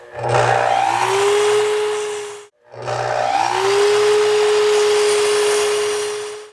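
A power saw squares off the ends of boards for a workbench build: two separate runs, each with the motor spinning up into a steady, loud whine that holds, then winding down, with a short pause between them.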